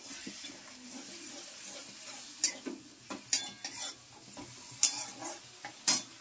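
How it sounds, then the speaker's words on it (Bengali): Cumin and ginger being sautéed with a splash of water in a pan for a soybean and chana dal curry: soft sizzling under irregular spoon scrapes and clinks against the pan, close by, with no talk. "এই জিরে আদাটা ভালো করে আমি কষিয়ে নেব। আর একটু জল দিয়ে ভালো করে কষাবো"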